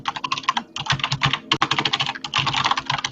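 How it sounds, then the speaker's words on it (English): Loud, rapid typing on a computer keyboard fills the whole stretch in dense clattering bursts with only brief pauses, close and with no voices. "Oh, very loud typing. Very loud typing."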